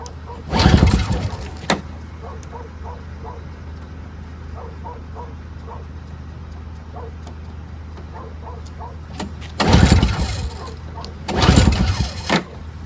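A NOMA 4.5, 21-inch single-stage two-stroke snowblower cranked without fuel gives three loud, brief bursts of engine churning, one near the start and two near the end, over a steady low background hum.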